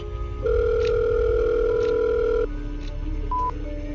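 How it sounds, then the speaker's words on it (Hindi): A steady telephone dial tone holds loudly for about two seconds during a call to a doctor, then drops to a softer background with a brief higher beep near the end; no one speaks. "रौनिक ने कंपकपाते हाथों से डॉक्टर अरुंधति को फोन लगाया।"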